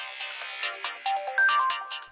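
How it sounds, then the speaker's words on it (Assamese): A phone ringtone plays in a home kitchen, a bright melodic electronic tune of repeated short notes ringing steadily and fairly loud for about two seconds with no voices over it. "কিয়েই ফোন কৰিছে বোধহয়?"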